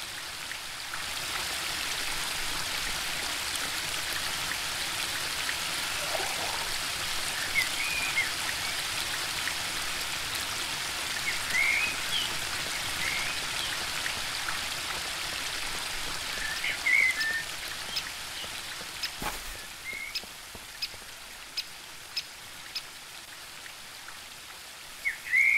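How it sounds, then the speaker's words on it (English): A waterfall in The Book of Unwritten Tales 2 pours as a steady, dense hiss of rushing water, continuous and fairly close, with scattered faint clicks and no speech. "The waterfall and I have been neighbours for so long that I don't really hear it anymore."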